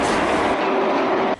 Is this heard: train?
yes